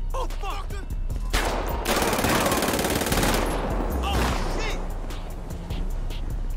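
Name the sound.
gunfire in the video game GTA 5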